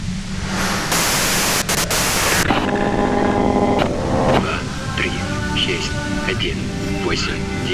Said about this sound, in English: you can do it through the white noise